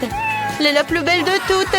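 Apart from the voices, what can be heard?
cartoon cat meowing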